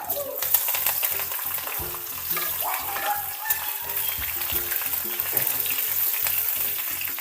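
Fenugreek seeds, dried chillies and curry leaves sizzle steadily in hot oil for a Kerala ripe mango curry tempering, a close, continuous crackling fry with no voices.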